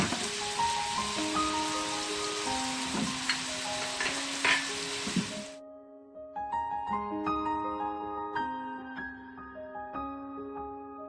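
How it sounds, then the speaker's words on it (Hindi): Chicken frying in a pan as spices are added, a loud dense sizzle for the first half that cuts off abruptly, then gives way to a quieter stretch of tonal kitchen sounds with light clinks. "चिकन को आप 1 मिनट तक पहले फ्राई करें, फिर इसमें मसाले ऐड कीजिएगा।"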